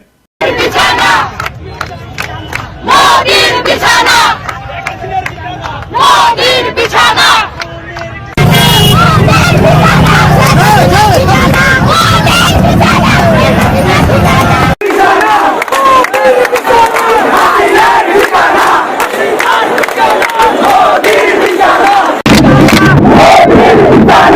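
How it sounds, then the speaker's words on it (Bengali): A large crowd of revolutionary students chants political slogans in unison, loud and rhythmic, with repeated call-and-response bursts over a dense roar of massed voices, sometimes breaking into cheering and babble. "কি কি স্লোগান দিছিল আমার ক্ষুদ্র ভ্রাতার ভগিনীরা, বিপ্লবী ছাত্র জনতা"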